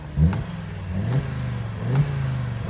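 A high-mileage Audi TT RS 8J with a six-speed manual revs in three short blips, each rising briefly above a steady mid-pitched idle, close by and with no voices.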